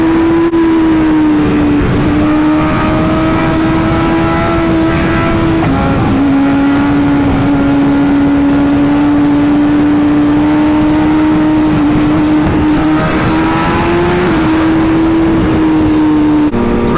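A brand new BMW HP4 motorcycle revs loudly and steadily, its engine note holding high with brief dips and rises over about seventeen seconds, close by with no talk.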